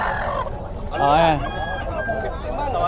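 A rooster at a Bocaue, Philippines pet and poultry market crows once in a loud, rising call with some clucking, while people talk nearby throughout.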